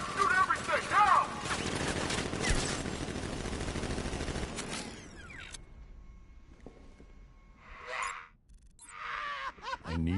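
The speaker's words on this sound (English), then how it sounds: "Guard! Open fire! Shoot everything! Now!" Guards opening fire in the video game Batman Arkham Knight: a dense, loud barrage of overlapping shots fills the first five seconds, then gives way to quieter game effects and scattered bursts.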